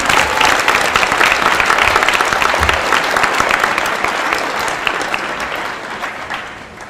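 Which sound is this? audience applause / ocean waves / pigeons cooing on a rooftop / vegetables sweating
audience applause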